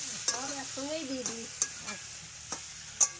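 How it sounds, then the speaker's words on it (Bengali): Crab with taro flowers and chopped onion cooking together in a pan, a steady sizzle broken by several sharp utensil clinks and scrapes, with a voice briefly audible in the background. "ফুল কিন্তু চাপিয়ে দিল একেবারে কাঁকড়ার সঙ্গে আর তার সাথে পেঁয়াজ কুচি সব একসাথে দিয়ে দিয়েছে"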